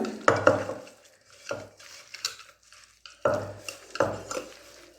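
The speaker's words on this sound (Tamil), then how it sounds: "கேரட்டு, பீன்ஸு, உருளைக்கிழங்குல போட்டு நல்லா மேஷ் பண்ணிக்கலாம்." Carrot, beans and potato being mashed in a pot while cooking a masala vada batter, with several irregular soft thumps and scraping stirs separated by quiet pauses.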